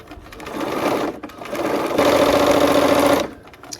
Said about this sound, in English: we'll sew on either side of the diagonal line